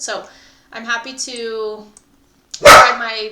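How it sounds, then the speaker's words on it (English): A dog lets out one sharp, loud bark in the background right after a pause in a man's speech, with his talking before and after it. "excuse my dog barking in the background"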